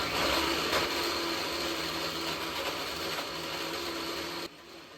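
Mixer grinder blending chopped cucumber and beetroot for juice, a loud continuous whirring motor close by that runs evenly for several seconds before abruptly switching off.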